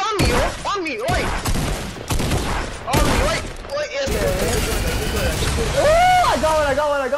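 Fortnite gunfire rattles out in rapid, loud bursts and single shots, with excited talking over the fighting throughout.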